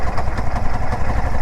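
A Royal Enfield Shotgun 650 motorcycle pulls away in third gear, its parallel-twin engine thumping with a close, pulsing, slightly uneven note in a brief burst.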